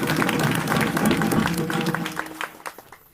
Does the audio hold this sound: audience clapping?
yes